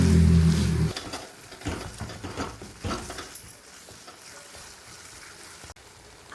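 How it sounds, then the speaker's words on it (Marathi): Khoa roasting in a pan over low gas while being stirred for kalakand, a soft, low sizzle with scraping stir strokes after a brief louder thump at the start. "खवा पण 5 ते 7 मिनिटं आपण छान कमी गॅसवरती भाजू।"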